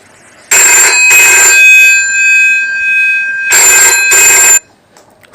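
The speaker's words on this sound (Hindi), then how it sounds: "फोन इतनी रात गए।" A telephone rings late at night in a quiet room: two loud bursts of a bright electronic double ring, separated by a long sustained tone, then silence.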